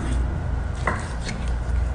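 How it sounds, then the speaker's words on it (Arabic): A knife chops raw chicken into small pieces on a board, giving a few sharp, close cutting knocks over low kitchen background noise. "أول شيء عندي الدجاج تقطيع."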